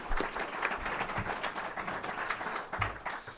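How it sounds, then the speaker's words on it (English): A small audience in a club house gives a brief round of applause, scattered individual claps standing out distinctly at close range rather than a dense roar. "Give a wee round of applause."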